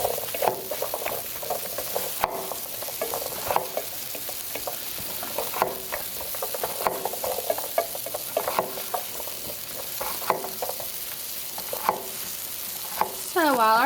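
Potatoes frying in a tablespoon of oil in a pan give a steady close sizzle with crackling pops and occasional stirring scrapes, running throughout without talk.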